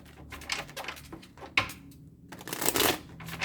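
Cards being shuffled for a tarot-style card reading: a quick run of crisp riffling and flicking bursts, close and fairly quiet, with a louder snap near the middle and busier shuffling toward the end.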